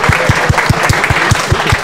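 Audience applause at a tech talk, a steady round of clapping that fills the room, with strong rhythmic low thumps running evenly throughout.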